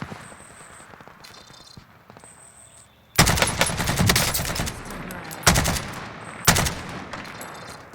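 Automatic gunfire bursts loud and close in a Warzone match, with sustained fire from about three seconds on punctuated by sharper volleys, after a quieter stretch of distant shots and game sounds.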